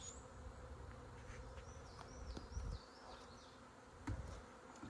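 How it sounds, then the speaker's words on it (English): Honeybees buzzing around a hive at a bee farm, a soft continuous drone of many insects with occasional closer passes, faint and outdoors with no talking. "they seem like a pretty relaxed honeybees to me"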